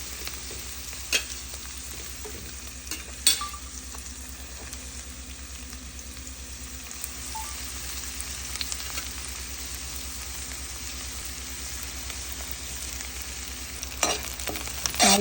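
Onions sautéing in a pan for a cauliflower fry make a steady, low sizzle that runs right through, with a few sharp clinks of stirring near the start and again toward the end, and no voices.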